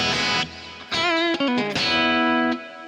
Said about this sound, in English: now I have this bright, jangly guitar.